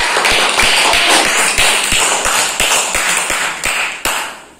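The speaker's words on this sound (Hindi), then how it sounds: "तो ताली बजाओ सर।" A classroom of young schoolchildren claps in a sharp, evenly spaced rhythm, about a dozen loud close beats in unison, with no talking over it.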